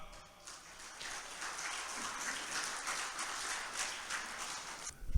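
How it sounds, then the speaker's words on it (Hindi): An audience at an international mushaira breaks into steady applause to welcome a speaker, a broad wash of many hands clapping that swells and holds before cutting off sharply. "पुरजोर तालियों से खैर मकदम करें जनाब अंजार आलम साहब का"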